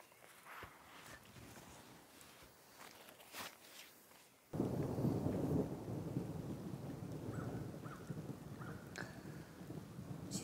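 Steady rain pours through a food forest of perennial fruit and nut plants, starting abruptly after a quieter stretch with faint footsteps, then a broad continuous rumble with distant thunder, no voices.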